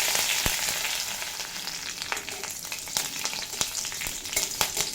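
Black mustard seeds, cumin seeds, chili flakes and curry leaves fry in hot oil for a pumpkin dish, giving a close, continuous sizzle with scattered sharp crackles and pops, without any talking.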